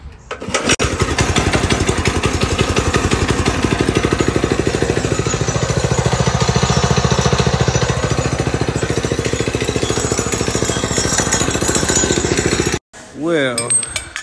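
A Predator 224cc engine swapped into a Coleman mini bike runs loud and close at a steady idle, a rapid buzzing drone with a brief cut near the end and a clink.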